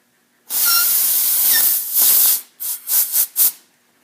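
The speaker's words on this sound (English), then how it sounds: "the air compressor aerosolizes this this brake fluid stuff, but it is a nice way to get this out" An air compressor nozzle blasts brake fluid out of a Shimano XT M8000 bicycle brake. A loud sustained hiss is followed by several short, sharp bursts of air, close up, with no talking.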